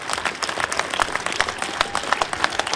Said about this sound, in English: A big applause to our Ukrainian friends.